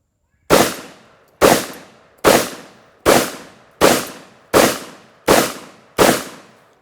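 Eight sharp shotgun blasts from a Vepr 12 firing Winchester light target loads, evenly spaced about a second apart, each loud close report trailing off in a short decay with no talking.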